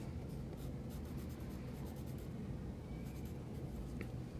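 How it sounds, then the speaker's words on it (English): A pencil writes a name on the back of a piece of wallpaper, a steady soft scratching and scraping that continues unbroken for several seconds, close and quiet with no voices. "I take out my pencil and I write my name."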